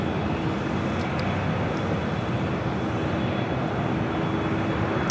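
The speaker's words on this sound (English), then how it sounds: "Japan Airlines Flight 16 coming up from Tokyo Haneda, 787-9 Dreamliner arriving on the north side" A Japan Airlines Boeing 787-9 Dreamliner arriving from Tokyo Haneda on the north side at LAX gives off a steady, wide engine rumble with a faint whine, constant and moderately distant throughout, no talk.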